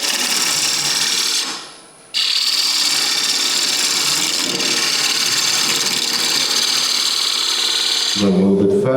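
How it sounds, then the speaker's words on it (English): Wood lathe spinning a workpiece while a ball gouge removes bulk, a loud continuous tearing, whirring cut that drops away briefly and resumes, ending with a tonal motor hum. "The fastest way removing that bulk is again with the ball gouge."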